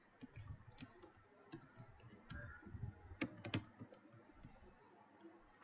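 Quiet, close typing on a computer keyboard, scattered key clicks in irregular bursts with brief pauses, no voices.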